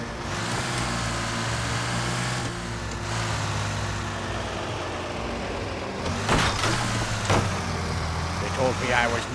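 A fire truck engine in LA Noire drones steadily while being driven and drifted, with a few sharper bumps and knocks near the end and a person talking over it.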